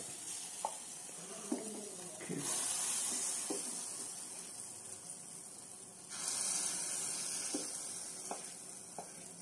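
Sweet banana appam batter poured into a hot appe pan, giving a continuous hissing sizzle that swells twice as more batter goes in, with a few light clinks of a spoon.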